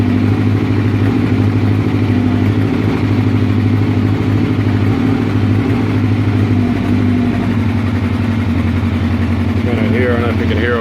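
A Honda CB700SC motorcycle engine idles roughly close by, a loud, flat, continuous drone that stumbles unevenly, while a person talks over it.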